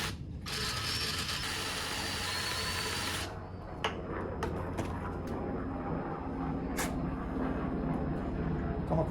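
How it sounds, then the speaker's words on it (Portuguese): Power drill boring with a wide bit into a deck-chair frame, a steady loud whir for about three seconds, followed by fainter clicks and handling sounds. "eu vou usar essa broca bem larga e vou embutir então nesse lugar"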